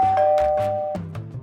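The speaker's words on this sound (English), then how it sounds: "Let's talk about IMILAB Smart Doorbell and see why it is so special." An IMILAB smart wireless video doorbell plays a short, clear electronic chime: a sustained first tone followed by a lower note and a couple of quick bell-like strikes, heard alone.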